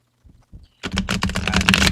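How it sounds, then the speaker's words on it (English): Tarot cards being shuffled, a couple of soft taps followed by a quick, close burst of crisp riffling clicks. "these cards are difficult to shuffle."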